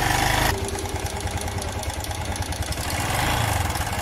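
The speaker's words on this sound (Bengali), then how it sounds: "তো এই বাইকের ইঞ্জিনের শব্দ এমন হওয়ার কারণ কি" A faulty TVS Phoenix motorcycle engine with worn piston rings and a worn timing chain runs at idle, a steady close mechanical clatter and rough knocking rhythm throughout, with no talk.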